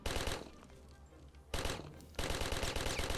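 Rapid bursts of automatic gunfire in the video game Mafia rattle loudly, stopping briefly in between and then resuming in sustained volleys.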